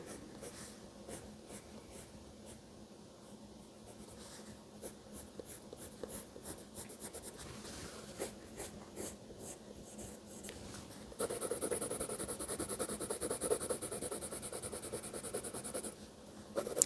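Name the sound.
pencil drawing on paper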